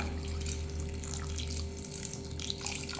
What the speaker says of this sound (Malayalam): ലേശം വെള്ളം ഒഴിക്കാം